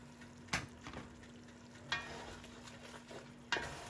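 Wine simmering with onions in a cast iron pan, a soft steady sizzle and bubble with a few sharp stirring scrapes recurring about every one and a half seconds.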